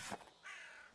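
A crow in the video game Spiritfarer gives two faint, raspy caws a moment apart, heard alone.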